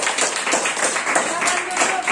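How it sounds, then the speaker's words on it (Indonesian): A small classroom group claps briefly for a student presentation team, a quick burst of overlapping hand claps blended with a faint murmur of voices. "mari berikan tepuk tangan"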